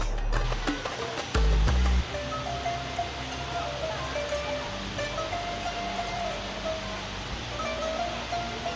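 An indoor multi-storey waterfall in a giant Dubai mall gives a steady rushing wash of falling water beneath a busy crowd murmur, after a brief loud thump near the start.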